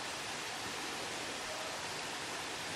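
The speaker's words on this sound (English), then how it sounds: "So you can hear the streams running down the side of the" Streams running down the side of a fell in the Lake District, near St. John's in the Vale, give a steady, broad rushing wash of water that carries on unbroken with no voices.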